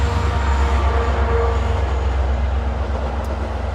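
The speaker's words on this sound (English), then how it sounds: "We're gonna have a train go by" A train passes near a backyard, a loud, steady low rumble with a continuous metallic roar of the cars rolling by throughout the few seconds. No talking is heard.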